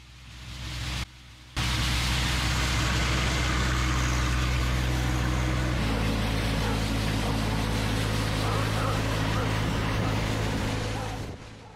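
John Deere 1025R compact tractor with a snow broom attachment runs through light snow, a loud steady engine and rotating broom roar that cuts out briefly near the start, then holds constant until it fades at the end.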